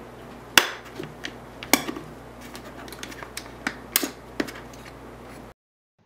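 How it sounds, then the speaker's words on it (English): A flathead screwdriver pries a plastic segment off a Prestan adult CPR manikin with a few sharp, separate clicks and snaps, close and distinct against a quiet background. "Take any slotted or flathead screwdriver and pop off this segment like so."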